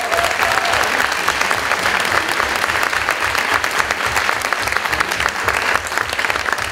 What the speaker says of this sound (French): je vais vous demander déjà d'applaudir les 5 candidats pour leur discours